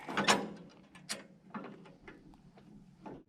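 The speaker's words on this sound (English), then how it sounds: "Screw the new piece in." Metal clicks and scrapes as a new part is screwed onto a sawmill with 17mm wrenches, a few separate faint close-up taps and ratcheting sounds with quiet gaps between.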